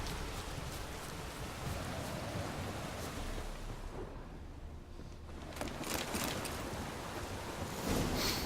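Heavy downpour in The Witcher 3 hisses as a dense, constant wash of rain, loud and unbroken, with a brief lull midway before the full roar returns.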